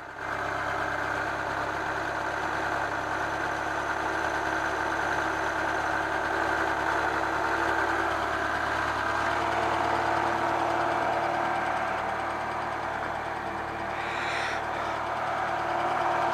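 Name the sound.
Citroën BX 16 TZS car engine idling after restart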